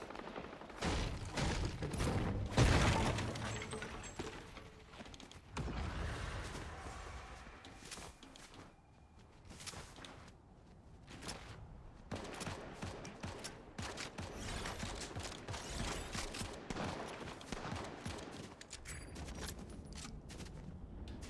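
Video game gunfire crackles through a long stretch of rapid, dense bursts and scattered single shots at moderate distance, quiet overall and broken by short lulls.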